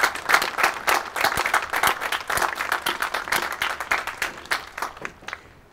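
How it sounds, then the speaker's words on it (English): Outdoor audience at a Coast Guard sunset parade applauding the Coast Guard Auxiliary, irregular handclaps from a modest crowd that fade out toward the end. "Join me in a round of applause for the Coast Guard Auxiliary."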